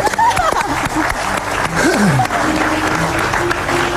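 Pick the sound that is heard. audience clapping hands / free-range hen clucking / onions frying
audience clapping hands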